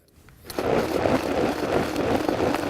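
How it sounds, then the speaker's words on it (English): A blender pulses chopped garlic and other ingredients, a steady close whirring grind that starts after a short quiet moment and runs on evenly without talk. "we've got that all in the blender, and we're going to pulse this for about a minute"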